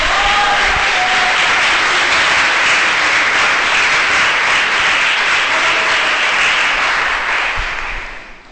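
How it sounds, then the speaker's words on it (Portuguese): Church congregation applauds during a sermon, a loud, sustained roar of many hands clapping with faint cheering mixed in, holding steady before tapering off at the end. "Dá uma salva de palmas para Jesus."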